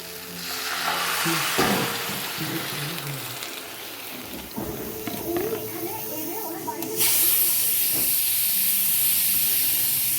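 Water poured into a hot cooking pan sets off a loud, close, steady hiss and sizzle that swells near the end, with a voice talking over parts of it.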